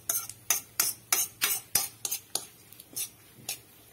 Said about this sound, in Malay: Sorry, bunyi sudu kuat sikit.